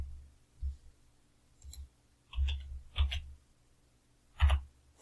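Keys clack on a computer keyboard as entries go into an Excel spreadsheet: a few separate clicks and short bursts spread over a few seconds, close and fairly quiet against a silent room.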